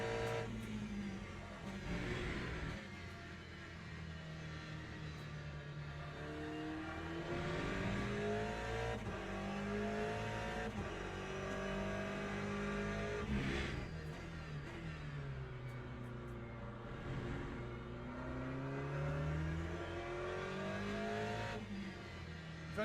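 Race car engine in the sim racing game Le Mans Ultimate, droning steadily and loud throughout with rising and falling pitch through gear changes and revs, running continuously with no pauses.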